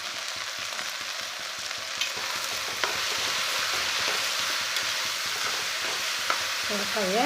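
A bottle gourd and broad bean curry is sautéed in a pan, giving a steady loud sizzle with a rhythmic scrape of stirring throughout and a few sharper clinks of the spoon.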